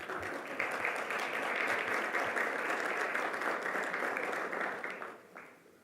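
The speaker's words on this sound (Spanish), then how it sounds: "Me es muy satisfactorio ver que ese aplauso lo generaron los alcaldes." Applause from mayors in the audience at a bankers' association convention, a broad even wash of clapping from a large room that holds steady, then fades away at the end.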